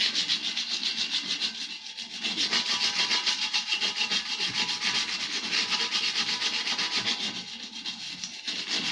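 Sandpaper rubbing over a metal cooking pot around a small hole, smoothing it before a patch goes on. The scraping is a steady, close, continuous hiss with quick back-and-forth strokes and no talk.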